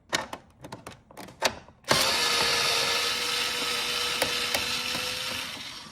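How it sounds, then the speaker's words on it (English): A hand ratchet works loose three screws on a Corvette C8 front bezel, with a few sparse clicks at first and then a dense, continuous ratcheting rattle close to the mic for the rest. "so we got those 3 screws loose now"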